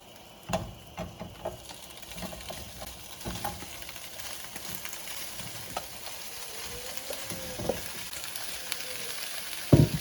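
Sausages sizzle and spatter in a pan of melted butter for a chicken, shrimp and sausage gumbo, a steady crackling fry broken by occasional scrapes and stirring knocks, close up, with no talking.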